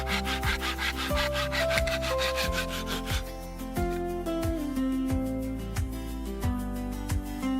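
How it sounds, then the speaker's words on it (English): Small wooden planks are trimmed and sanded by hand in a steady rhythmic back-and-forth rasping strokes, close and continuous, with no talking. "Each plank is trimmed to a uniform size, then carefully sanded to smooth the edges and bring out the natural grain of the wood."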